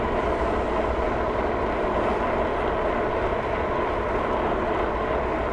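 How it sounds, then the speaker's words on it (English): A train passes at a distance, a continuous low rumble and rolling hum that stays steady throughout without talk. "there's a big choo-choo going by"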